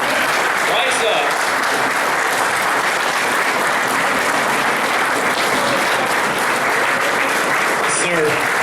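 Sustained audience applause from a crowd on its feet after a speech, loud and dense throughout with a few voices calling out over the clapping.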